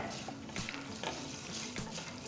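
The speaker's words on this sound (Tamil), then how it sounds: "இதோட கொஞ்சம் கருவேப்பிலை அதையும் சேர்க்குறேன்." Curry leaves dropped into hot tempering oil for curd semiya, a loud close crackling sizzle with sharp spits and pops throughout.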